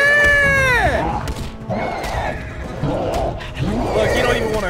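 A horse from the film Rise of the Planet of the Apes lets out a loud, falling whinny at the start, followed by thumps and other soundtrack noises.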